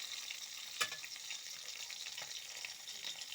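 Pieces of already-fried fish sizzle and crackle steadily in a hot pan of oil, a continuous bright hiss broken by one sharp clack near the start.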